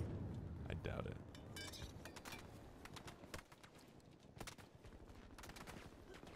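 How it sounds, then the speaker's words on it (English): Gunfire in a Battlefield 2042 match, rapid bursts of shots crackling at moderate distance amid game ambience, with a voice speaking over the action. "Stop shooting me."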